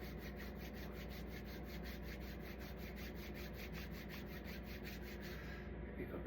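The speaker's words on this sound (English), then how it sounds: "Rub those hands together." Palms rubbed briskly together during a morning stretching routine, a steady, close, rhythmic swishing of many quick back-and-forth strokes that continues without pause.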